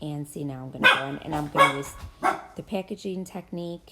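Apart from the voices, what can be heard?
dogs barking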